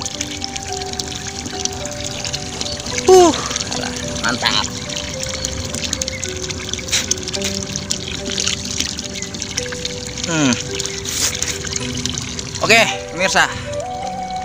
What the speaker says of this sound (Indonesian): Tanpa listrik, air mengalir dari dalam tanah melalui peralon.